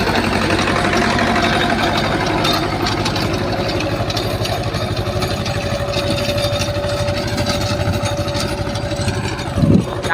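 A farm tractor's diesel engine idles steadily close by, a loud, continuous low chugging throb with no voices.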